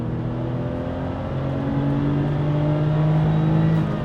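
A 1996 Porsche 911 Carrera 4S engine revs steadily in second gear, a loud, close, continuous rising drone that builds in pitch and pulls toward redline without any talk.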